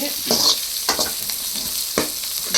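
Chopped vegetables sautéing in a pan for Maggi noodles, a close sizzle punctuated by several rhythmic scraping stirs of a spatula, alone with no talk.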